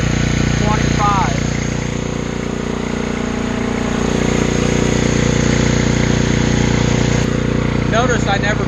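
A small gas motor held at full throttle drives an AR45 sprayer pump in a steady, loud, unbroken drone, while someone talks over it throughout.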